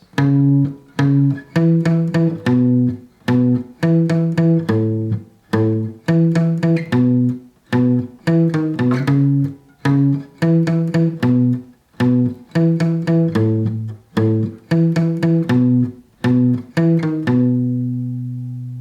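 A guitar plays a repeating bass line, low plucked notes in a steady rhythm, ending on a sustained chord.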